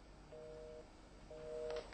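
Two short, evenly spaced beeps of a telephone disconnect tone after a call is cut off, thin and quiet against a low background hum.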